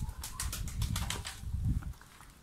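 A rapid flurry of wing flaps from several pigeons taking off together, fairly close, with soft low rustling underneath and no voices.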